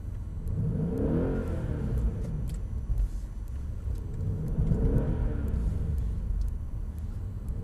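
A Mercedes-Benz E63 AMG accelerates on a wet skid circle, its engine surging and revving in two rising sweeps over a steady rumble of tyres and spray, loud and close with no talk.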